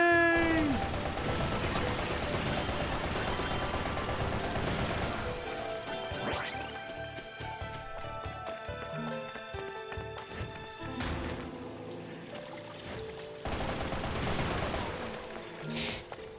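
Bayonetta gunfire and explosions crash in dense, chaotic bursts over a constant layer of game music and effects, with sharp hits and booms throughout.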